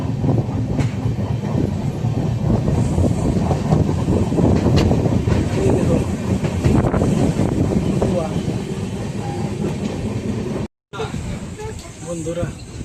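Passenger train rolling into Purulia railway station, heard from on board: a loud, continuous rumble of rail noise with faint clacks and hiss, a voice talking over it, and a short dropout near the end.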